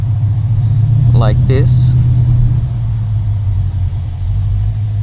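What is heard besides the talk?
Mercedes car engine driving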